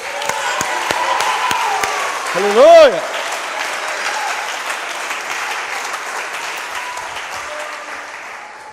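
A church congregation applauds in a dense, continuous wash of clapping. A voice briefly exclaims over the applause.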